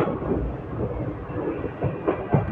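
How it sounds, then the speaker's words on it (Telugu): The Amravati Express train arrives at a station, rumbling steadily with rhythmic clickety-clack from its wheels and a few heavier thuds, heard close by. "ట్రైన్ మనకి ఇక్కడికి 25 మినిట్స్ డిలేగా వచ్చిందండి"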